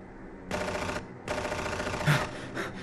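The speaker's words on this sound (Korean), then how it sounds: "총소리가 점점 가까이 오자 아이들은 술렁이기 시작했어요" Bursts of rapid gunfire, two long rattling volleys separated by a brief pause, then a louder shot and more scattered firing.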